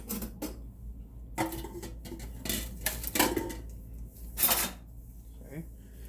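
Eggs are scored in a pan with a tortilla for a veggie omelette, producing intermittent scraping and tapping bursts of a utensil against the pan, separated by short pauses.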